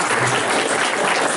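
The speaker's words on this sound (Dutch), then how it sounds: "En daar wil ik heel graag een applaus voor" A loud, close crowd at a magazine issue launch gives a hearty round of applause, dense and unbroken clapping filling the whole moment without any speech.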